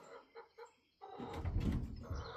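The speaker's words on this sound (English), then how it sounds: "the rooster in here is missing his tail feathers" A few soft chicken clucks sound at first, then a louder burst of rustling and scraping commotion follows, near and brief.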